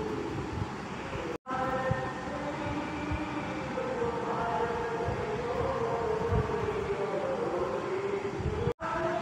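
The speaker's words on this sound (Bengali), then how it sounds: "তোমাদের সামনে ঈদ চলে এসেছে, সেই জন্য চারিদিকে মাইক চলছে" Loudspeakers blaring around a neighbourhood for Eid make a steady, loud, tonal drone of amplified sound that fills the whole stretch, interrupted by two brief dropouts.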